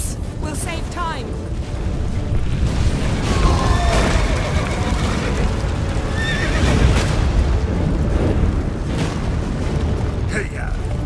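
A horse in The Witcher III whinnies and neighs several times amid clopping hooves, close and loud, with heavy booming rumbles in the background and some voices.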